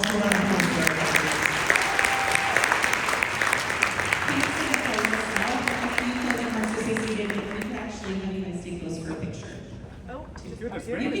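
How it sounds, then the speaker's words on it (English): Audience applause closes a public relations editors' panel on stage: dense, steady clapping from a crowd with voices mixed in, easing and thinning over the last few seconds. "I'll ask you a round of applause."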